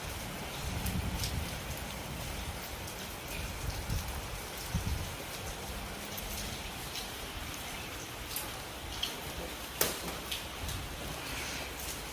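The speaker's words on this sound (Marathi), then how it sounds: "आमच्या गावाला तर लय बदा बदा बदा बदा बदा बदा चाललाय" Heavy rain falls over a village, a constant soft hiss of drops on surfaces heard from some distance at a fairly low level, with an occasional sharper tap standing out.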